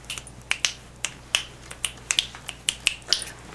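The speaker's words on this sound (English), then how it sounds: "I can snap my fingers though." A dozen or so sharp finger snaps come one after another in an uneven rhythm, close and crisp against a quiet room hum.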